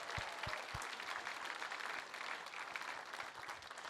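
A gala audience applauds its supporters, a steady wash of clapping hands from a large crowd that holds at an even level for several seconds.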